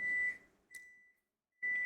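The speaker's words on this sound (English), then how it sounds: "I'm way ahead of my coffee maker and the beeping alarm." A coffee maker gives a few steady electronic beeps, quiet and isolated, with short gaps and a brief click between tones.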